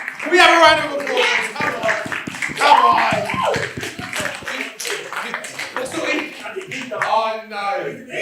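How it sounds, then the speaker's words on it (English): A small audience gives a short round of applause at a live keynote, scattered claps patting along under a voice and someone speaking nearby. "Can we have a round of applause?"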